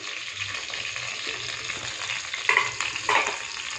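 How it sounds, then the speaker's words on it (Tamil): Mustard seeds and urad dal fry in hot oil, producing a steady close sizzle with bright popping crackles and a couple of sharper spatters toward the end. "இப்போ நம்ம எண்ணெய் ஊற்றிருக்கோம். இப்போ கடுகு உளுந்தம் பருப்பு போட்டுக்கலாம்."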